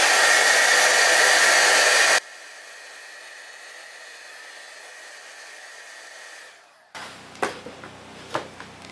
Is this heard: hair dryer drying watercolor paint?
yes